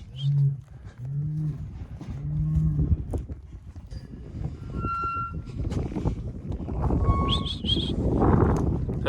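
Cattle low and moo repeatedly in steel corrals, deep calls spaced out in the first seconds, with clanging, rustling farm activity and a man calling to the animals.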